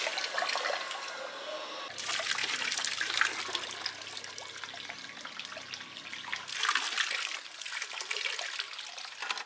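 Water leaking from the shaft stuffing box of a boat, a steady splashing trickle and gush of liquid running continuously, fairly close, shifting in intensity throughout without any talk.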